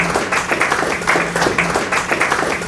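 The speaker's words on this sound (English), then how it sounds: "A huge round of applause for Sanskriti." Live audience applause welcoming a UPSC exam topper onto the stage: a short burst of steady clapping from a crowd, moderately loud and even, lasting under three seconds with no voices over it.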